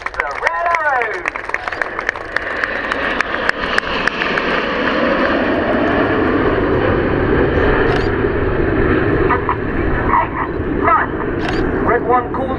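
RAF Red Arrows aerobatic jets fly past at the 2013 RAF Waddington airshow, a loud roaring engine rush that swells and lingers as a broad wash while a commentator talks over it.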